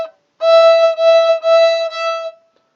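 A bowed string instrument holds a single note through a down bow and then an up bow, with a steady harmonic tone and a brief dip in loudness where the bow changes direction, played alone and close.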